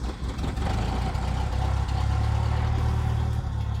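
A Cessna 172M Skyhawk's engine runs just after start, a close, steady, loud mechanical drone with a low rumbling pulse that firms up as the throttle is opened slightly.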